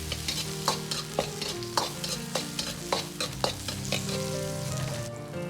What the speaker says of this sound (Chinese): 稍微翻炒